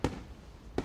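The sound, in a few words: fireworks exploding in the video game Katawa Shoujo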